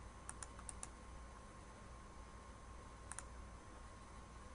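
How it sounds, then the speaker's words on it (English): Computer arrow keys tapped in Microsoft Word, a quick cluster of four soft clicks near the start and a pair a few seconds later, faint and close over a steady low room hum with no voices. "I'm using my arrow keys just to kind of nudge."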